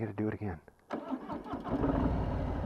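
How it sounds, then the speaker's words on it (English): A 2020 Harley-Davidson Softail Street Bob V-twin cranks on its starter and catches into a rough, lumpy idle that grows louder and steadier, following a brief spoken line at the start. "It almost sounds like the starter is just kind of straining against itself to do something"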